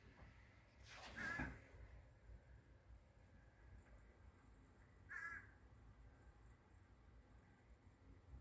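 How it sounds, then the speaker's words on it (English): A crow caws twice among Florida birds squabbling over a pile of biscuits outdoors: a loud harsh call near the start, then a shorter one about four seconds later, over steady background noise. "Oh, there's a crow."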